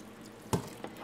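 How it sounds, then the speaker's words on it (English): Extra water goes into a homemade oatmeal scrubbing soap mixture on a stove, heard as one brief near splash followed by a smaller, fainter one against a quiet background. "I'm going to stir in some extra water."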